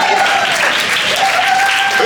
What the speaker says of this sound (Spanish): Un aplauso al Señor por los amigos de Monterrey.